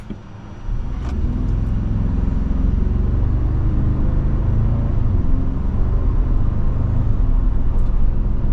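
A 2024 Toyota Tacoma Hybrid TRD Off-Road pulls away from a stop, its engine and drivetrain building into a steady, loud, low rumble heard from inside the cab, with no talk.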